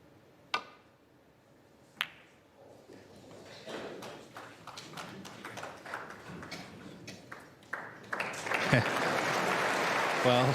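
Audience applause at a first-round Masters snooker match in 2024, opening with two sharp isolated claps before a swell of clapping builds steadily and grows louder toward the end, with a commentator speaking over it.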